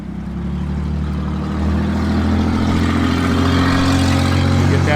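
A 1969 Mercury Cougar Eliminator rumbles loud and close with a deep, steady V8 drone that builds slightly as it passes, with no break in the engine note.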